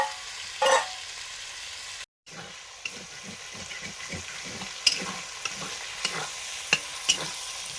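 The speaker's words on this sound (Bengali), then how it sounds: "চিকেনগুলো ভাজছি।" Steady sizzling of food frying in a pan, with repeated scraping and stirring strokes and a brief silent gap partway through.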